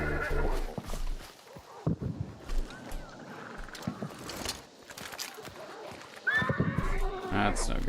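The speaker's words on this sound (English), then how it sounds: "I did bother the horse." A horse neighs and whinnies in the multiplayer shooter Hunt: Showdown, with hoof clip-clops and wind; a whinny rises loudly near the end, mixed with game effects and a voice talking throughout.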